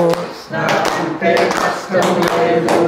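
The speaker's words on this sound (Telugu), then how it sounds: "ఇప్పుడు చప్పట్లు కొడుతూ చెప్పండి" An audience claps hands in a steady rhythm while chanting devotional lines together, the loud claps mixed with the group's voices throughout.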